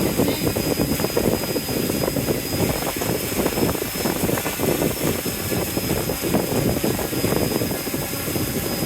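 RC2211 brushless RC motor running on a test bench at about 8 volts under increased current, a steady loud whirring drone with a constant high whine that holds without breaks throughout.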